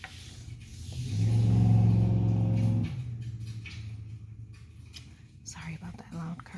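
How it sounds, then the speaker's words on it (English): A loud car passes outside, its engine rumble swelling over a couple of seconds and then fading, while a soft whispering voice continues nearby. "Sorry about that loud car."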